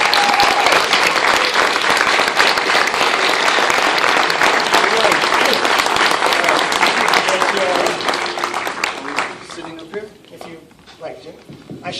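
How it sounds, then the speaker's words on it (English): Sustained audience applause at a screening Q&A for actor Oscar Isaac, dense and loud for about eight seconds before thinning into scattered claps and murmurs. "please, a round of applause for the star of the film"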